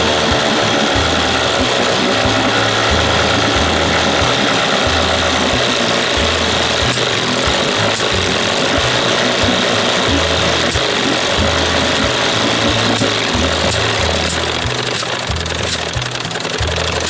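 A 1976 Evinrude 25 hp outboard engine runs steadily and loudly up close after a carburetor swap, its rough, pulsing drone continuous throughout with an uneven, sputtering beat.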